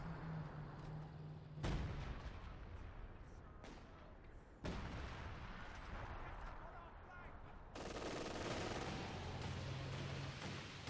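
Artillery barrage in the video game Company of Heroes 2, with dense rumbling booms and sharp blasts in sudden loud bursts, while commentary voices talk over the battle.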